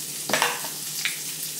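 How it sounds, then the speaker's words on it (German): Asparagus frying in a pan on very low heat gives a soft, steady sizzle, with a few brief clinks of stirring near the start and middle. "Spargel sind übrigens auf ganz feiner Stufe jetzt nur noch, damit die eigentlich so ein bisschen, ja, braten können"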